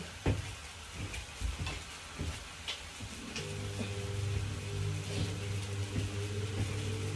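Cooking oil heats for frying inside a food truck, giving a soft, steady sizzle with scattered small pops and clicks. A low, even mechanical hum joins partway through.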